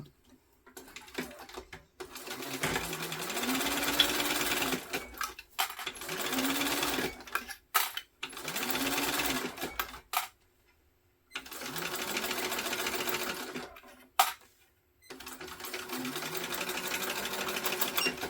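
A sewing machine stitches a seam on a backpack in five bursts of rapid mechanical whirring, each a few seconds long, separated by short quiet pauses, heard up close.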